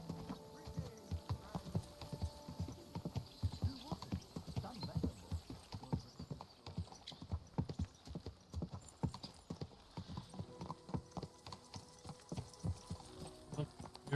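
Horse hooves clip-clopping at a steady walking rhythm in the video game Kingdom Come: Deliverance II, close and continuous throughout, with faint ambient hum and a brief snort or whinny.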